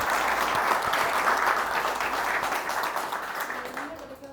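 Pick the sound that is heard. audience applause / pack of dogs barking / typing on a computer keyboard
audience applause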